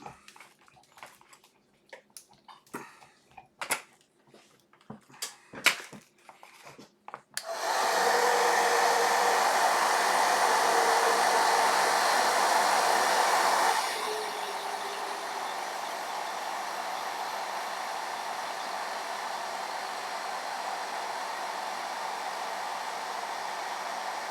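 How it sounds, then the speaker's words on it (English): After a few scattered knocks and clatters, a hair dryer switches on loudly, then drops to a lower, steady blowing hum that continues to the end. "Let's just get my hairdryer out."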